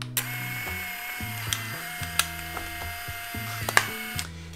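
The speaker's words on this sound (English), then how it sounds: "So as you can see, the image comes out with the exposed side to the back." A Lomo'Instant Glass instant camera whirs and clicks as its motor ejects a photo print, a close mechanical grinding with a stepped rhythm and sharp ticks throughout.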